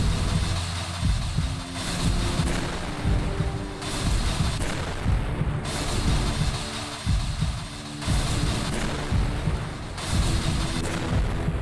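Repeated explosions strike an enemy in a video game, heavy booming blasts arriving every couple of seconds in a steady rhythm, loud and dense with low rumble, no talking.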